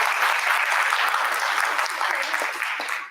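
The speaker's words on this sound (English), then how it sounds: "Please a round of applause for her." Audience applause at a live talk on Ramayana and Mahabharata stories in Orlando, Florida: a dense, steady wash of many hands clapping that holds for about three seconds and thins slightly at the end.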